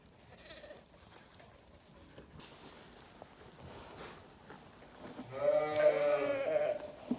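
A ewe calling for her lambs on a farm: a faint bleat early, soft rustling and shuffling, then a loud, wavering, drawn-out bleat near the end.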